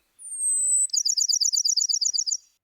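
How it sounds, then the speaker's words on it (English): Bachman's Sparrow song, close and clear with no other sound: one long, high, sustained whistled note, then a rapid, evenly spaced trill of about fifteen bright chips that ends abruptly. "I think it's Bachman's Sparrow,"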